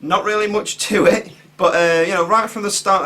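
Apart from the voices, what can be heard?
No distinct noise like a dog, phone or traffic.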